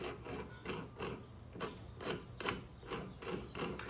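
Rifle barrel nut being tightened onto a handguard on an S&W FPC, a quiet ratcheting series of about eight evenly spaced clicks close by.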